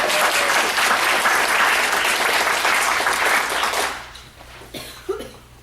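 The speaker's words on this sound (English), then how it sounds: "Let's give them a round of applause." Conference audience breaks into dense, sustained applause for several seconds, then the clapping fades quickly to near silence with a faint stray sound.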